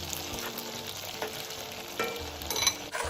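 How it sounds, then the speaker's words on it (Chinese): Dried tofu pieces deep-frying in a wok of hot cooking oil over high heat, a steady close sizzle with a few louder crackling bursts and light clatter near the end. "油热后，将备好豆干倒入。"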